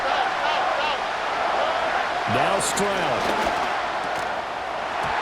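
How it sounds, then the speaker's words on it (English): A roaring stadium crowd in the football video game Madden NFL 25 fills the background as a steady wash of noise, sitting under a commentator's play-by-play voice. "This crowd doing all they can."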